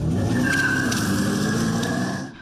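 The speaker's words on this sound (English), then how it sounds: "the sounds and smell of tires burning rubber are real" Loud, sustained tire screech from an electric car burning rubber, a steady high squeal over an artificial engine roar, fading out at the very end.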